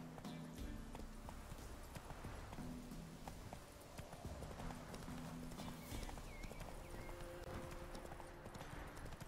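Horse hooves clip-clop steadily in The Witcher 3 as a summoned mount approaches, a continuous rhythmic trot under faint ambient game sounds and occasional talk.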